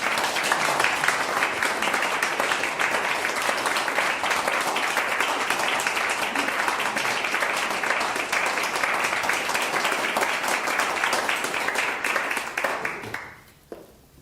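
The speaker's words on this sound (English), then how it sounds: "Let's have a big round of applause" Enthusiastic applause from a sizeable audience at a lecture in St Mary's, Perivale, sustained and even for several seconds before tapering off quickly at the end.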